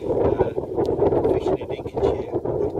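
Wind gusting across a fishing lake in Lincolnshire, a rough, buffeting rush hitting the microphone continuously and loudly throughout.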